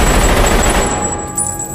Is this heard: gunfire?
yes